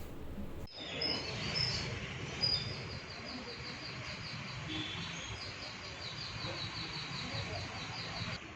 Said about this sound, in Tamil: பச்சை கிளிகள் மற்றும் முனியாஸ் பறவைகளை உயகொண்டான் வாய்க்கால் கரையில் பறக்கவிட்டனர்